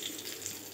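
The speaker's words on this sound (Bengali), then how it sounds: "এই দেখো বেগুন ভাজা করব, তাই বেগুন বসিয়ে দিয়েছি" Eggplant slices frying in a pan in a home kitchen, giving a steady, moderately quiet sizzle that runs through the whole moment with no voice over it.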